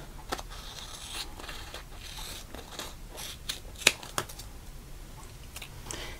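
Scissors trimming cardstock for a Stampin' Up! Valentine's card project: a few quiet, brief snips and paper scrapes spread over several seconds, close and soft, with no talk.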